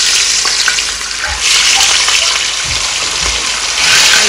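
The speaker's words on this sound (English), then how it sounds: "I'll begin to drop the fish into the oil." Steady sizzling of fish dropped into hot oil, a loud continuous frying hiss with a few soft thuds and bubbling bursts.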